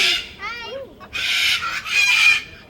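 A yellow-crested cockatoo at a zoo gives loud, harsh screeching calls in several bursts, close by and alone with no talk over them.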